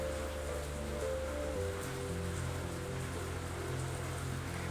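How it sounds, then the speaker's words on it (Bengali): Heavy monsoon rain pours down outside, a dense, even hiss of drops on surfaces with a low drone beneath, steady and fairly faint throughout with no voices. "বাইরে মুষলধারে বৃষ্টি পড়ছে"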